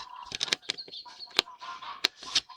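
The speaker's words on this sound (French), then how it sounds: "les oies du voisin" A neighbour's geese honk loudly and repeatedly in close, irregular bursts, with overlapping calls and no talk.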